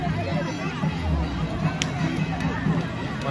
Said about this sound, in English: Check out the crowd, man